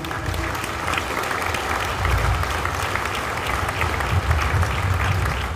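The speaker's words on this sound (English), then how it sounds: "Can I get a round of applause for the Marines, please?" Crowd applause for Marines at a change of command ceremony at MCAS Yuma, a sustained wash of many hands clapping at steady volume with no speech.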